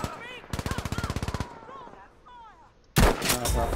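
Video game gunfire, with a fast, evenly spaced burst of about a dozen close, loud automatic shots, then a pause with faint chirping sounds, then another heavy blast of fire.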